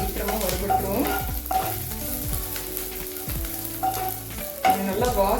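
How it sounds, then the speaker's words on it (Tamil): Pirandai (adamant creeper) pieces dry-roasting in a pan, with a soft sizzle under repeated scraping and stirring strokes of a spoon against the metal, close and steady with no talking. "வறுபடுற அளவுக்கு விட்டு வறுத்துக்கலாங்க."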